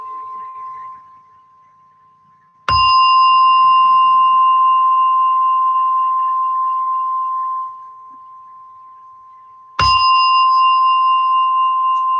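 A meditation gong is struck twice, each sharp strike ringing into a long, clear, slowly fading tone, loud and close, with a brief quiet gap between strokes.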